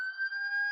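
A steady electronic siren sound effect holds one sustained, even tone at moderate loudness for under a second, alone with no talk.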